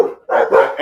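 Dogs bark at night, loud and near, a short bark followed by a brief gap and then a dense run of overlapping barks.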